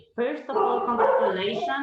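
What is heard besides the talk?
dog barking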